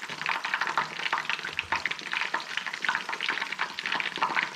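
Chicken breast pakora frying in hot oil, a continuous close crackle and sizzle with busy bursts of bubbling that keep up throughout, with no voices over it.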